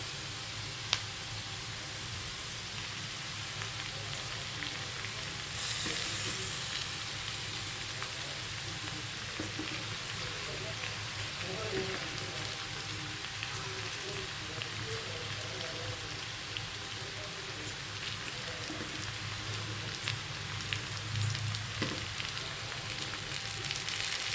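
Fish pieces dropped one at a time into a pan of hot oil with onion, potato and onion greens, giving a steady, close sizzle and crackle that runs on evenly with faint clinks.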